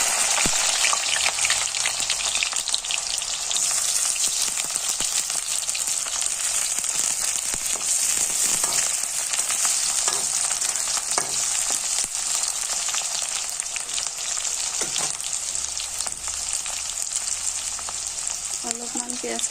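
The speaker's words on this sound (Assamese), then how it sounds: "অলপমান পিঁয়াজখিনি ৰংচোৱা হ'বলৈ আমি ভাজি থাকিম।" Onions frying in hot oil in a wok, giving a loud, steady, dense sizzle that carries on unbroken throughout with no voices over it.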